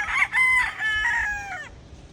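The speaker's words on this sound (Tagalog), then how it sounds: "check muna natin yung mga manok natin" A rooster crows once, loud and close, a long wavering call lasting about two seconds and ending abruptly.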